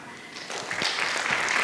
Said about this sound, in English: Can we give them a hearty clap?